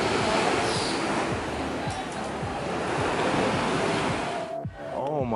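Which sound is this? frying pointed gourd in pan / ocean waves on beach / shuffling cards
ocean waves on beach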